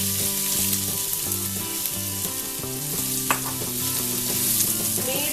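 Sliced onions fry in ghee over a medium flame for Thalassery egg biryani, a loud, continuous crackling sizzle with a tonal melody running underneath throughout.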